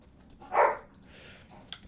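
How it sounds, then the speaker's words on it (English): Dogs fighting in Might and Magic VI: one short, sharp bark near the start, then a softer growl and a tiny yip, faint against a quiet background. "Oh, dog's fighting."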